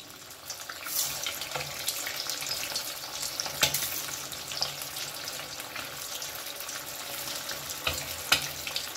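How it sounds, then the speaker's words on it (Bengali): Egg koftas frying in hot oil, a steady dense crackle and hiss with occasional sharper pops, close and continuous with no talking. "এবারে আমি তেলের মধ্যে একে একে কোফতাগুলো ছেড়ে দিচ্ছি।"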